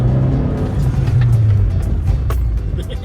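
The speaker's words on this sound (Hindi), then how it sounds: "first time I am driving this car" An engine-swapped Fiat Grande Punto Abarth drives along, its engine giving a steady low, rumbling drone heard from inside the car, with a faint voice briefly under the noise.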